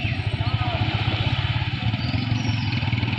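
Motorcycles, a Yamaha R15 V3 and a TVS RTR 160, ride at Tanguar Haor with a steady, pulsing engine drone, close and continuous, under wind noise and some talk.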